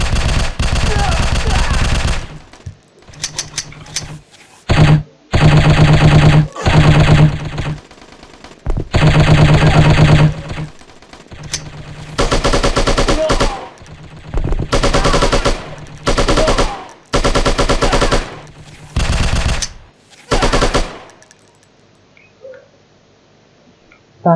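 Machine-gun fire in the shooting video game Striker comes in loud, rapid bursts separated by short pauses, with brief game voices in some of the gaps.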